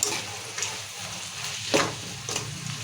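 Onion, chilli and peanuts tempering in hot oil for bombay rava upma, with a steady close sizzle and a few sharp stirring scrapes of the spoon against the pan.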